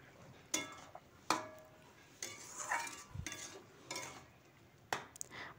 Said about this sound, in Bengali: তো বাটারটা দিয়ে আবারও কিছুক্ষণ আমি মিশিয়ে নেব।